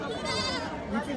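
Goats bleat amid the crowd at the Parbhani goat market in Maharashtra, with a close, nasal bleat over steady background chatter and people talking nearby.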